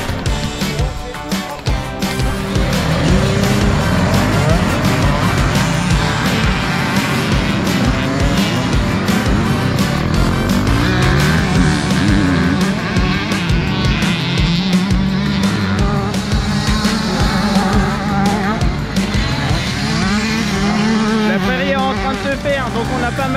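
Two-stroke dirt bikes ride a muddy, rain-soaked motocross track on a meadow, engines buzzing and revving continuously and loudly throughout, with voices mixed in beneath the constant motor noise.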